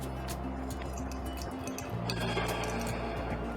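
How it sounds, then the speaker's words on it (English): Aqua regia solution poured into glassware during a home gold extraction test from rock: a continuous liquid pour with drips and small glass clinks over a steady background hum, close by. "Now I'm pouring"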